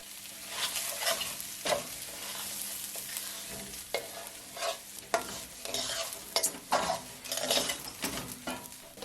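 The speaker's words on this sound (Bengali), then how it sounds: "চালকে আমরা 4 থেকে 5 মিনিট ভেজে নেব।" Rice and peas frying in a pot for Old Dhaka-style beef biryani: a spoon scrapes and stirs in repeated uneven strokes over a constant close sizzle, with occasional clinks against the pot and no voices.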